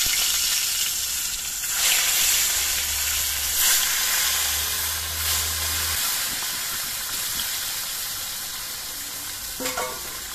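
Snakehead fish pieces fry in hot mustard oil, a loud, dense, continuous sizzle and hiss close up, steady throughout with a brief spatter near the end, no voices.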